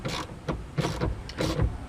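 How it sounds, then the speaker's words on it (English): A 10mm socket ratchet tightens the 12-volt battery terminal clamp on a 2007 Toyota Prius, giving three short bursts of close mechanical clicking at a steady rhythm, with no talking. "I'm going to use the 10mm socket to tighten that up."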